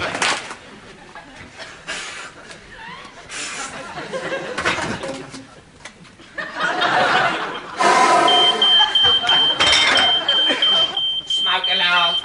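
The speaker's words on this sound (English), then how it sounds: "Smoke alarm." A smoke alarm beeps in an indoor leisure centre, its steady high tone sounding loud and continuous through the latter part of the scene, with laughter and chatter over it.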